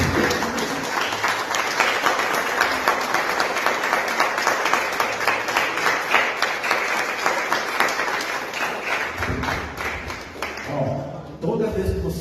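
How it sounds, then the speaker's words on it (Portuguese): A church congregation breaks into sustained applause, loud rhythmic clapping from many hands that carries on for over ten seconds before tapering off, with a voice briefly audible near the end. "Dê um aplauso ao Senhor."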